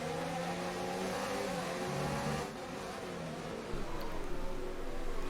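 A Formula 1 car engine in the F1 2019 racing game, with a damaged internal combustion engine losing power, drones steadily and loudly throughout, with a brief dip midway and no talking.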